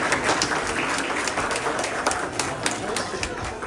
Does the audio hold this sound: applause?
yes